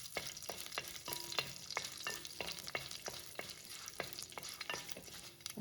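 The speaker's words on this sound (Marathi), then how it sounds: "अशी मोहरी तडतडली" Mustard seeds, curry leaves, fenugreek and dried chillies crackle and pop in hot oil while being tempered, a faint, continuous sizzle scattered with sharp little pops and stirring.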